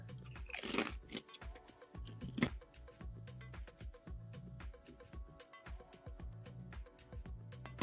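A chip is crunched and chewed close to the microphone, with a couple of sharp loud bites followed by repeated softer rhythmic crunching as it is chewed.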